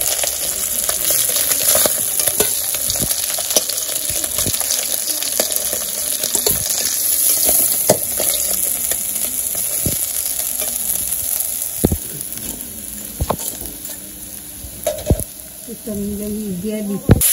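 Fish sizzle and spit steadily in hot oil in a pan at a village wedding-house kitchen, a dense crackling hiss with occasional sharp pops and stirring clinks running throughout.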